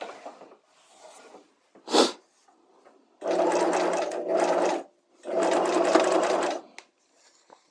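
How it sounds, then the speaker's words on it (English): Sewing machine stitching bias facing closed around horsehair braid, running in two steady whirring bursts of about a second and a half each, close and loud, with a short sharp noise and quiet breathing between them. "stitch this bias closed around the horsehair braid"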